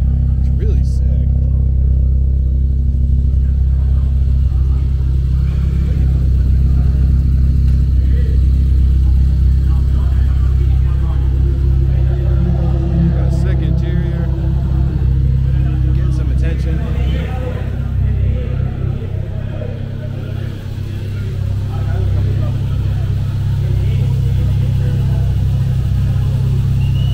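Loud engine note from cars at a track day in Buenos Aires, Argentina, with a small BMW pulling in and a Renault Fuego nearby, a steady throaty drone with surges of revving that runs throughout, close and continuous under people talking.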